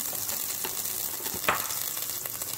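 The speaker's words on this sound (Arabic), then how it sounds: "نحطوا الزبده تاعنا كما راكم تشوفوا" Butter melting in a pot at the start of a Turkish lentil soup, giving a steady, soft sizzle with a few faint clinks, heard close with no talking.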